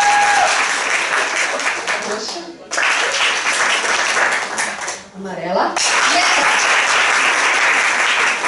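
A lecture audience bursts into loud applause in repeated waves, each stopping abruptly into brief silence before resuming, while a presenter speaks briefly between the bursts.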